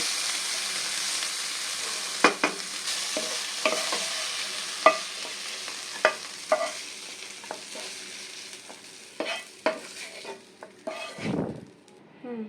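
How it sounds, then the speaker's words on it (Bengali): Banana flower frying in a pan while being stirred, with a soft continuous sizzle broken by repeated scraping and clinking strokes of a utensil against the pan. The strokes come irregularly and grow busier toward the end. No one talks. "দেখেন ভাজাটা প্রায় হয়ে গেছে"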